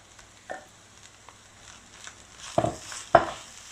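Fried mince with onions and coriander gets stirred in a pan with a utensil, producing soft scrapes and a few sharper clinks against a low sizzle, up close and with no talking.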